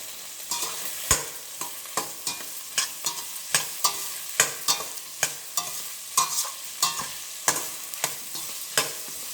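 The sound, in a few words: stirring vegetables frying in oil for upma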